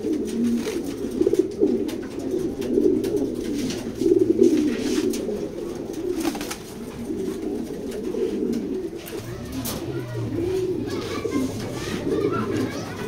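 A female pigeon coos repeatedly inside a pigeon loft, producing soft, low, rolling calls that continue steadily throughout with a light murmur of background noise.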